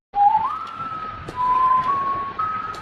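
A single steady whistle heard over a phone call, a clear sustained tone that steps up and down in pitch for a few seconds, alone without talk.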